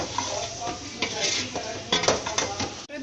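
Tomatoes being mashed in a pot while cooking biryani make scraping, clinking utensil strokes against metal over a soft sizzle, in uneven close bursts.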